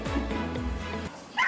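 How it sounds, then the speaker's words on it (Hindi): A dog gives a quick yelp, then a stretch of tonal whining and whimpering that cuts off abruptly, followed by a brief higher burst at the end. "वही कुत्ते उस पर भौंक रहे थे"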